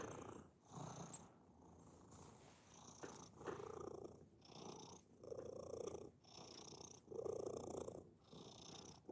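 A large farm cat, around 25 pounds, purrs loudly and close, a rhythmic rumbling that swells and eases with each breath.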